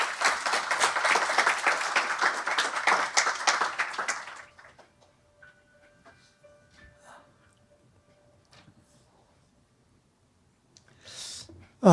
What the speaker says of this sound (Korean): 모두 큰 박수로 맞이해 주시기 바랍니다.